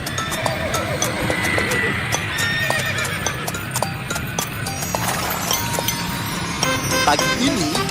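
A horse pulling a cart clip-clops with quick, steady hooves on hard ground and gives a loud whinny, accompanied by jingling harness bells, all close and continuous.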